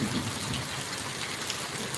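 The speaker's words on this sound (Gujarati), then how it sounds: "કડાકા ભડાકા સાથે વરસાદ વરસી રહ્યો છે" Heavy rain pours near a highway at Vada in Banaskantha district, Gujarat, making a loud, continuous wash of noise with no pauses and no voices.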